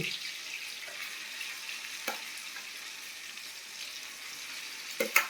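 Amla paste frying in a pan for chyawanprash, a soft continuous sizzle with occasional stirring scrapes and small clinks, fairly quiet and close.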